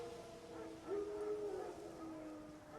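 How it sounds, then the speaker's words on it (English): Wild dogs howl in The Witcher 3 video game, a single drawn-out distant howl rising briefly over a quiet ambient background. "No. Wild dogs. Yes. More dangerous than wolves."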